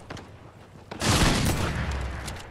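Fortnite gunfire, a loud burst of rapid shots about a second in that rattles on in a dense, sustained volley after some quieter taps.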